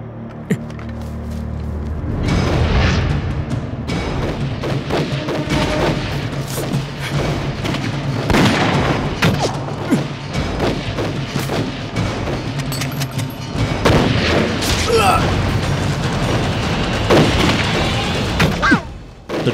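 Gunfire and heavy booms in a war film scene with Japanese soldiers and a special-forces unit, loud repeated shots and thuds going off continuously across the scene without pause.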